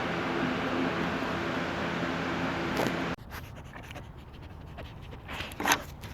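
A neighbor's dog panting close by, a fast steady rhythm of breathy huffs, followed by quieter scuffs and rustles.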